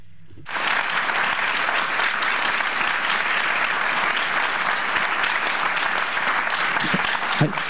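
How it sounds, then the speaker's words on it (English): Sustained audience applause at a seminar event, starting abruptly after a brief quiet moment and continuing loud and dense with many hands clapping throughout, no speech over it. "A big round of applause, please."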